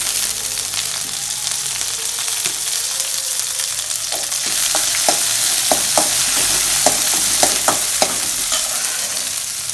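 Curry leaves hit hot oil for Tamil snake gourd kootu, giving a steady loud sizzle with sharp popping crackles that come thick and fast partway through, all close up.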